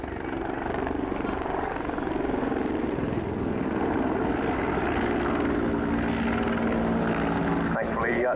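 A Hungarian Air Force Mil Mi-24P Hind helicopter roars steadily through a flying display at an airshow, its loud rotor and engine noise filling the whole stretch with constant, close, dense thrum.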